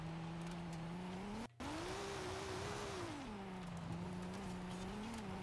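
A Volvo 850 R rally car's engine in Forza Horizon 5 drones steadily and rises and falls with throttle, with a brief cut in the sound partway through and tyre noise beneath; no one speaks.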